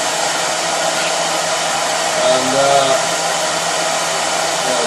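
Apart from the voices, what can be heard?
BMW E39 EV conversion blower fan running at high speed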